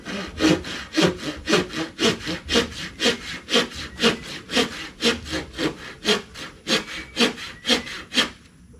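Steady hand sawing through wood being split into flooring for a nipa hut, a fast regular rhythm of about two strokes per second, close and loud, with no talking.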